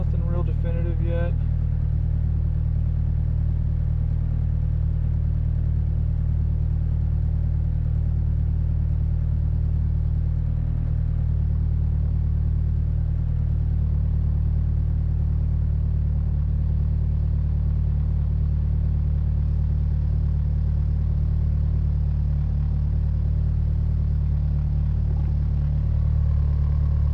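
A Mitsubishi Evo IX engine idles through its warm-up at about 1200 RPM, running rich with a suspected misfire, giving a steady low rumbling hum heard close and continuous, with a brief clatter at the start.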